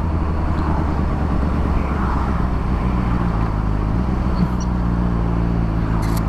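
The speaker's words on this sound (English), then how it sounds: "Oh, god damn it, how long this traffic's gonna last" Steady engine drone and road rumble from a sportbike cruising in highway traffic near Nuremberg, a continuous low hum with wind noise and no talking.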